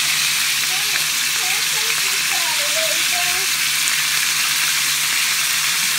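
Cut-up onions fry in melted butter with a constant, close, broadband sizzle that hardly varies for several seconds, with no voices over it.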